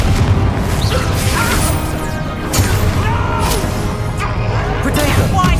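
Confringo fire spell blasts in Hogwarts Legacy combat, several booming explosive bursts with whooshes and crashing impacts over a dense, loud battle mix, repeating every second or two.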